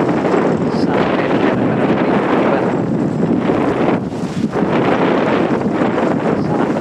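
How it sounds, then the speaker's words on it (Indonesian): Very strong sea wind gusts across a bridge under construction, roaring steadily and loudly into the microphone with constant buffeting and no letup. "Kita bisa mati betapa kencangnya angin ini"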